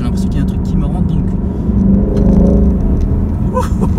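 A 2018 Ford Mustang GT pulls hard through downshifted gears, its engine a loud, steady rumble that swells and strains from inside the cabin while someone talks over it.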